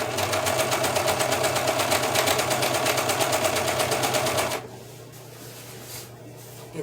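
A serger sewing machine stitching with all four threads runs steadily with a dense mechanical whir for about four and a half seconds, then stops, leaving quiet room tone.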